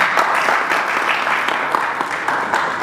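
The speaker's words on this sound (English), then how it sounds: "A huge round of applause for him." An audience at a university sports-innovation event in Karachi applauds steadily, a dense even patter of many hands clapping at a sustained level for a few seconds.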